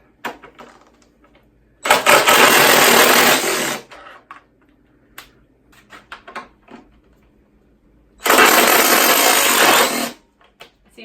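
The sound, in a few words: impact wrench removing bolts on motorcycle luggage rack install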